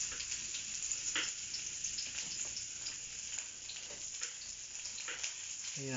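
Garlic and onion frying in a pan for sautéed chayote, a steady soft sizzle with faint crackles and pops running throughout, fairly quiet and close.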